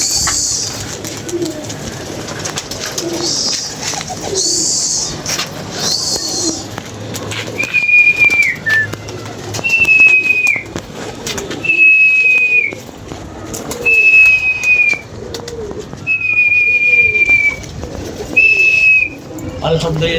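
Pigeons coo in soft, repeated low phrases nearby, joined by several short, clear whistling calls at regular intervals over a faint background hum.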